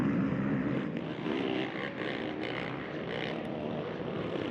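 ATV engines run at a motocross national at Sunset Ridge, a continuous droning roar with rising and falling whines as machines pass at middle distance, loud and steady throughout.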